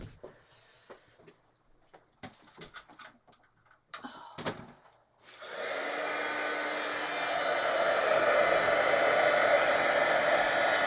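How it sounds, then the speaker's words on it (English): A few soft clicks and knocks, then a loud, steady blowing roar of an embossing heat gun starts up close and keeps running without a break. "I love embossing."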